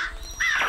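A cartoon crow in a Marathi children's animated story gives a single harsh, raspy caw, loud and close, after a brief quiet lead-in.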